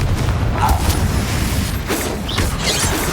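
A Confringo fire spell blast in the Hogwarts Legacy video game, a loud rumbling, crackling explosion with grinding mechanical clatter that holds steady for about three seconds, with no voices over it.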